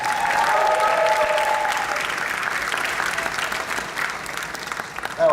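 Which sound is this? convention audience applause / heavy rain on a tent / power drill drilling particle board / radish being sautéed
convention audience applause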